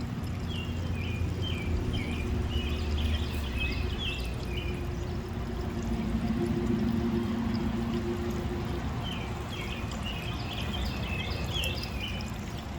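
Water trickles down a small stream along a parkway on a morning nature walk in Loudoun County, Virginia, a soft, steady outdoor wash with faint bird chirps and insects in the background.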